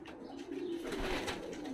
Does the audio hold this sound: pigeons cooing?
yes